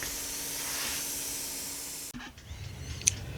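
Spray coating being applied to a Toyota Corolla 7AFE valve cover: a steady, close hiss runs for about two seconds, then cuts off, leaving quiet room sound and a brief faint click.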